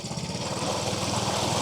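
An outboard engine on a Macgregor 26M sailboat runs steadily below full throttle, a close, even, rapid putter with no voices.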